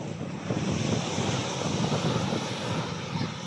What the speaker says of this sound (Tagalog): Ito yung dagat.